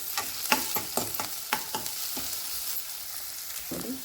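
Vegetables for veg momos sizzle in a hot pan while being stirred, with a series of sharp scraping and clinking stir strokes over a soft frying hiss, close and fairly quiet.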